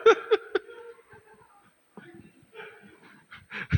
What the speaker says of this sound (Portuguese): Quase que eu dizia é o cão, mas são 3 gatos brigando aqui.